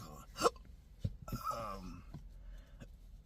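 Daily hiccups that began after surgery: one sharp hiccup near the start, followed by softer breathy sounds and a few faint clicks at a moderate level.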